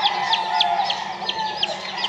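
Gamefowl chickens in a coop on a game farm, with repeated short clucks and chirpy calls every fraction of a second over a steady background hum, fairly close and with no talk.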